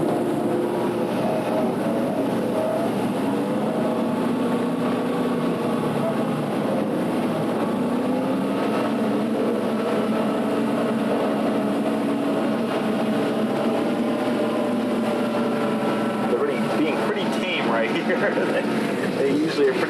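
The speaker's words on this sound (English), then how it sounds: "These are modified Volkswagen engines and tube frames, and they can really go." Parade vehicles with modified Volkswagen engines and tube frames at a 1990 Christmas parade in Berkley make a steady, loud engine drone and rumble that fills the whole stretch without pause.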